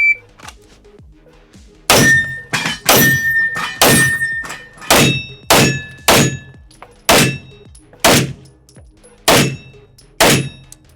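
Bullets strike steel popper targets at a shooting range, giving around a dozen loud, ringing metallic clangs in a steady rapid series, each with a short decaying ring.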